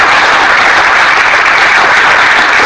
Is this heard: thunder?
no